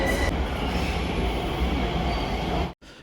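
A regular train running from the airport into central London, a loud steady rumble of wheels and carriage noise throughout, cutting out abruptly near the end.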